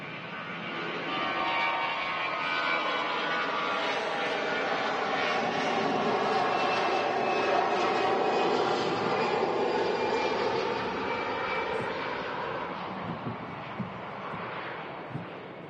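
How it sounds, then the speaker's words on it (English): An EasyJet airliner bound for Lisbon rolls for takeoff at Manchester Airport, its jet engines building to a loud, sustained broadband roar that holds steady and heard from a distance, slowly easing toward the end. "Finally rolling the Lisbon-bound EasyJet."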